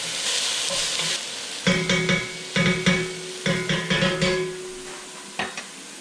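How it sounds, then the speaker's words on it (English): Onions sizzling and browning in a pan on slightly too-high heat, a steady frying hiss broken by a series of sharp scraping stirs of a utensil against the pan, close and fairly loud with no talk. "Gonna let these onions brown up. Heat was a little too high,"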